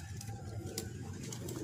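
A pigeon, a female dove, coos softly in a few low, quiet notes, faint and close, with no voices present.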